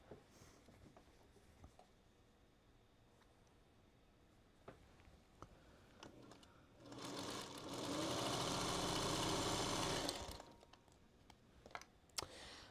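A sewing machine chain-pieces quilt blocks in a cozy cabin pattern, running in one loud sustained burst of about three seconds between quiet handling clicks and rustles.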